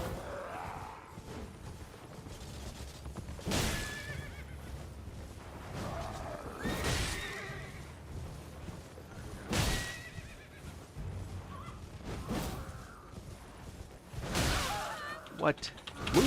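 Repeated horse whinnies and neighs in the video game Elden Ring sound amid game clatter and rustling, loud bursts recurring every few seconds with voices mixed in.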